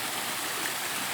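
A waterfall gives off a steady, full rushing roar of falling water, continuous and even throughout, with no voices.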